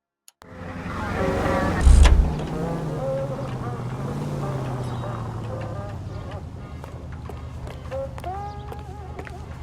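A car drives in L.A. Noire, its engine starting abruptly and then holding a steady loud hum with shifting pitch, a brief louder surge early on and faint tonal game sounds layered over it.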